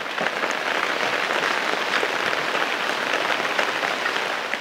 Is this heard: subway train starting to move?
no